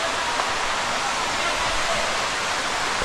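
Water pours down at the Gandhari Medaram waterfall, a loud, unbroken hiss and rumble that holds evenly throughout without pauses.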